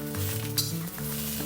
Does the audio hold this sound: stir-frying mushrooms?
yes